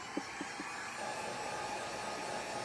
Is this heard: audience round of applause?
no